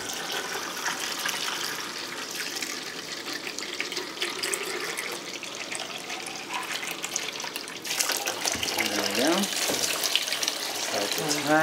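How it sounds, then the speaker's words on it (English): Tap water runs steadily into a film developer drum during 35mm color film processing at home, a continuous splashing fill that grows louder and fuller toward the end, with faint voices in the background. "now we fill the developer drum with water"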